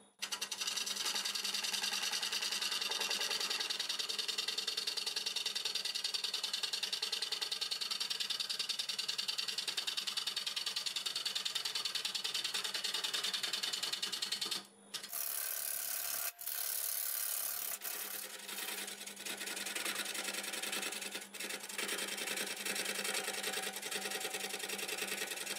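A wood lathe turns a piece of cherry wood at 125 RPM, giving a steady, moderately quiet rubbing and scraping hum that stops abruptly about two-thirds through, then resumes with rougher, intermittent scraping during final shaping.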